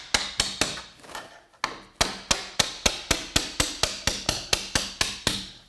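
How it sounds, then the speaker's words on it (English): A hammer drives a door hinge pin upward, about twenty sharp, evenly spaced metallic strikes after a brief pause. The blows are close, loud and steady, with no talking. "I'll start by driving the pin up."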